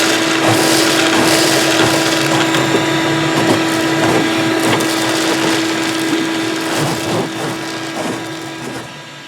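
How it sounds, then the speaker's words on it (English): Vacuum hose inside an off-grid backwoods cabin sucking up debris, a loud continuous motor whine with a steady tone and dense crackling rattles of seeds and bits clattering through, fading slightly toward the end. "Couldn't believe the amount of stuff we could hear going through that vacuum hose."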